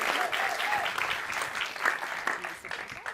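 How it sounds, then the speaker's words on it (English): Audience applause for contestant bakers at a live science baking show, a steady wash of many hands clapping that fills the room, with a few voices faintly underneath, thinning slightly toward the end. "give them a round of applause"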